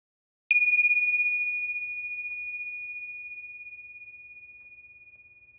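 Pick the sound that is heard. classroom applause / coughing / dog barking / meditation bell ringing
meditation bell ringing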